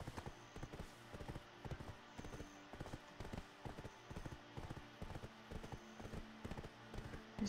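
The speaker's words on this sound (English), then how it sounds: "There's a few more horses up here." Rhythmic clip-clop of horse hooves trotting steadily in Black Desert Online, close and clear, repeating evenly throughout with no voices.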